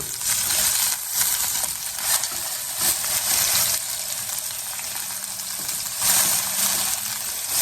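Carrot and beet turkey patties sizzle loudly in a pan after being flipped, a steady close hiss and crackle with occasional brief surges, with no voices.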